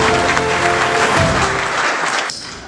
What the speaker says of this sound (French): Applaudissons pour les...